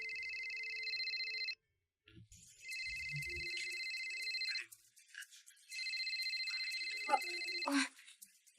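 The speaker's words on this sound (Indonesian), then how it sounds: "Kayaknya ada yang telepon." A mobile phone ringtone rings in repeated bursts of bright melodic tones, stopping briefly between rings while a person speaks in the gaps.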